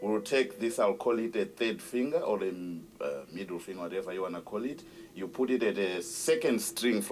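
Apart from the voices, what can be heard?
No everyday noise stands out behind the speech.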